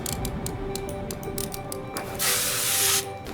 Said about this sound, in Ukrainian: ВДшки треба побризкати, щоб такий ржавий болт відкрутити